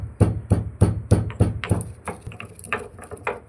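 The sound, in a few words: crushing pepper, dry ginger and coriander seeds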